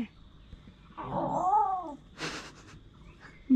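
A cat gives one drawn-out, wavering meow close by in a quiet room, followed by a brief scuffling noise and silence.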